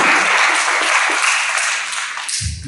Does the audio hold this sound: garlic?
no